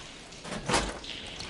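A single mechanical clunk with a rushing whoosh of water machinery switching the flow in the video game Horizon Forbidden West, swelling briefly to a peak and then settling into a low, steady hiss.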